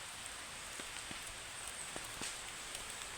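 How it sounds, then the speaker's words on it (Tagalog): Steady rain falls early in the day during outdoor work, a dense even hiss with scattered sharper drop taps landing close by; no voices. "Malas tayo ngayon kasi maaga yung ulan."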